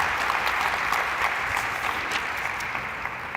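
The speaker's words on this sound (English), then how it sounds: "feel free to applaud" An audience at a public dialogue event applauds in a steady, even wash of clapping from a moderately distant crowd, with no talking over it.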